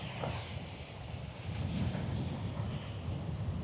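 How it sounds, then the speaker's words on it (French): Steady seaside wind buffets the microphone with a broad, blustery roar, gusting stronger midway, and a faint wash of surf lies underneath. "il y a beaucoup de vent ici"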